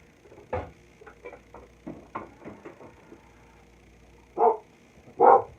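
Several dogs barking at a neighbour's dog from inside a home: scattered sharp barks at moderate distance, ending with two loud, close barks.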